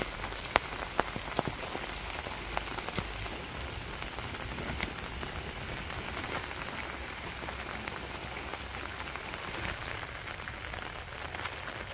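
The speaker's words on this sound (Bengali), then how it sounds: "এদিক দিয়ে গুড়ি গুড়ি বৃষ্টি হইতেছে" Light drizzle falling in a village, a dense, even patter of raindrops on surfaces with scattered sharper drips, steady and moderately quiet throughout with no talking.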